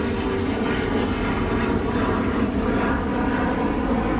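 A fixed-wing airplane passes overhead outdoors, a steady broad engine roar holding level and fairly loud throughout, with no speech.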